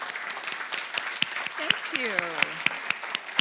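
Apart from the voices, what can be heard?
audience applauding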